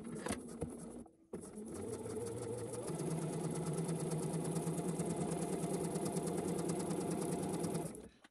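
A sewing machine stitches a seam close along a metal zipper's teeth, starting with a short burst, a brief stop, then a long, even, close-up motor whir and needle patter before halting.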